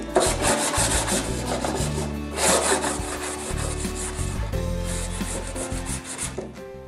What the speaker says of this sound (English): I then cleaned up the strips with some 80 grit sandpaper.